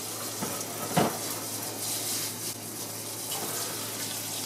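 Sprouts rinsed under running water in a spinner, a steady close hiss of flowing water with a few brief splashes and knocks, no talking.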